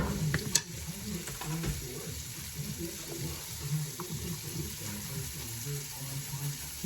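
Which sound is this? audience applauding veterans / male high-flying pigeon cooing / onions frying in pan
onions frying in pan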